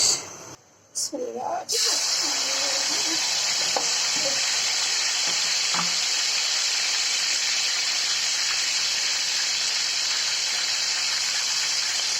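A goat leg hits hot oil in a wide cooking pot and sets off loud, steady frying and sizzling that hisses on without a break, after a brief clatter and some faint voices at the start.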